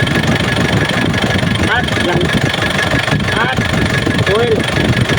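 The engine of a used car runs at idle, a steady low rumble, while a person talks over it.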